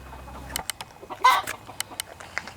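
Backyard chickens cluck and squawk close by in short irregular bursts, with one louder squawk in the middle, after a low mechanical hum stops at the start.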